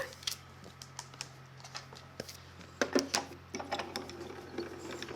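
A Grand Calibur die-cutting machine runs with paper going through it, making a close, steady series of small clicks and ratcheting taps that grow a little louder partway through, with no voice over them.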